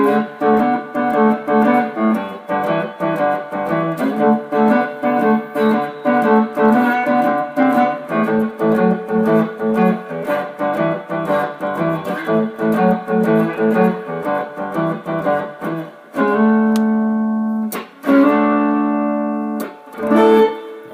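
A guitar plays the chorus of a song, a steady strummed chord progression with a regular rhythm, then ends on a few sustained, ringing chords.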